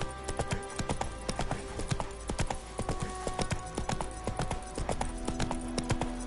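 Hooves of Roach, a horse in a video game, clop in a quick, regular trotting rhythm, close and crisp, with a faint snort or whinny mixed in.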